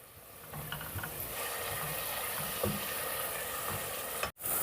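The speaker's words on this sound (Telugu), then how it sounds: "ఇప్పుడు ఈ ఉల్లిపాయ పేస్ట్ని కొద్దిగా రంగు మారేంత వరకు ఫ్రై చేసుకుందాం" Onion paste frying in oil, heard as a steady, close sizzle with faint scraping clicks from stirring mixed in, broken by a short dropout near the end, and no voices.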